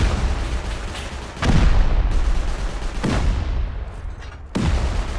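Gunfire and blasts in the video game Rust, several loud sharp reports at irregular intervals, each trailing off into a rumbling tail over continuous noisy background.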